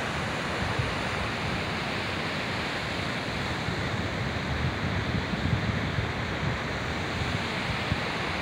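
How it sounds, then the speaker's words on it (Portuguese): Water released from the Oiticica dam in Jucurutu, Rio Grande do Norte, cascades down as a steady, dense roar of rushing falls that holds evenly throughout with no talk. "cachoeirinha descendo aqui da barragem de Oiticica, Jucurutu"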